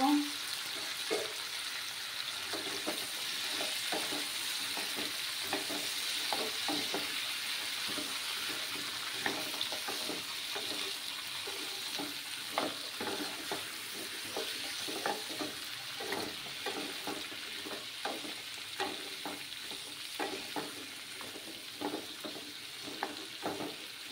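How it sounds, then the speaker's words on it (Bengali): Papaya and soybean with turmeric powder being stirred in a frying pan, a low, steady sizzle under a busy run of repeated scraping and tapping strokes from the spatula, quiet and close, with no talking. "দিয়ে আমি পরিমাণ মতো হলুদ গুঁড়ো দিয়ে দিলাম, দিয়ে এবার নাড়াচাড়া করবো।"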